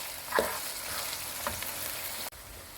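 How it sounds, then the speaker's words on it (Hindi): Cubes of lamb stir-fried in a pan for a cauliflower and meat curry: a continuous close sizzle with a few soft scraping stirs and one brief clatter near the end, no voices. "इसको अब हम चंद मिनट स्टर फ्राई करेंगे ताकि इसका गोश्त का कलर ज़रा चेंज हो जाए"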